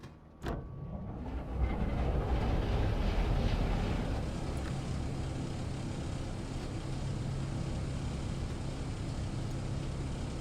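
A diesel locomotive engine in the Crewe–Preston West Coast Main Line train simulator game starts up with a sharp initial thump, then swells into a steady, low rumbling drone that continues evenly at moderate loudness.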